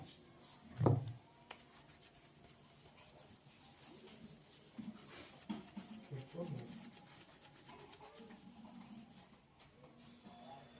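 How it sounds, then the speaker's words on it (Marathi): A rolling pin works a ball of dough into a flat round for bhakarwadi, giving faint repeated rubbing and rolling strokes close by, with a sharper knock early on. "तर त्याच्यामधला मी एक गोळा घेते आणि त्याची आपण पोळी लाटून घेऊया."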